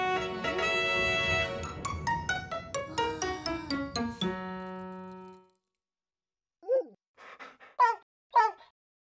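A cartoon puppy yips, whimpers and barks in a quick series of short calls over a tinkling musical backdrop, then a few separate louder yelps after a brief pause, with no talking.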